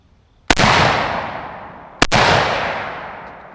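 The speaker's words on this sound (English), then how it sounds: "This is the first shots through the Tavor, so let's see how she does." Two suppressed shots from a Tavor rifle fired downrange with an unorthodox suppressor, each a sharp crack followed by a long, fading boom, about a second and a half apart, close and loud.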